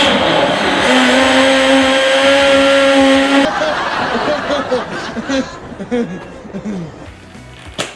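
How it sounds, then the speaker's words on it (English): A blender whirs loudly and steadily for a few seconds while blending an Oreo and apple milkshake, then cuts off, leaving scattered kitchen clatter and soft voices. "We're gonna blend this up"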